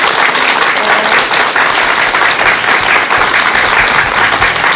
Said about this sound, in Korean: 스님께 여러분 큰 박수 부탁드립니다